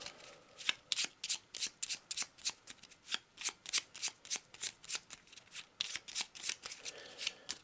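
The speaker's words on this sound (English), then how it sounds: "Give it a quick shuffle." A deck of ally cards for an Arkham Horror board game is riffled and shuffled by hand, a quick run of crisp, close papery flutters and snaps repeating in a steady, brisk rhythm with no talk.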